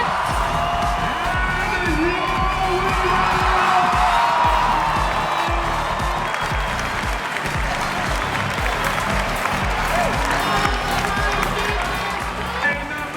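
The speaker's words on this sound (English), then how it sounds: "the crowd just started going wild" Crowd at the CrossFit Semifinals Europe 2023 cheering wildly and applauding during a workout race, a loud continuous roar of clapping, whoops and shouting that carries on for over ten seconds with voices mixed in.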